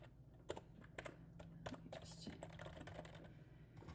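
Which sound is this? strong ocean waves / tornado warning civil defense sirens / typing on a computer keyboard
typing on a computer keyboard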